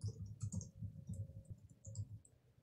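Soft, quick keystrokes on a computer keyboard while a user account is filled in during an Ubuntu 22.04 LTS installation. The irregular clicking is quiet and close, with no talking.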